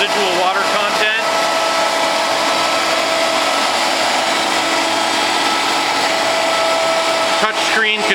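A transformer oil vacuum dehydrator processing 30 GPM, with an all stainless steel vacuum chamber, runs with a loud, steady mechanical whine and hum throughout, while a person talks briefly at the start and end.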